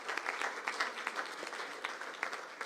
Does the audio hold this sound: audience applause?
yes